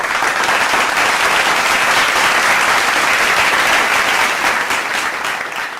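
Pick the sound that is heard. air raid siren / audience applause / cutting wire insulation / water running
audience applause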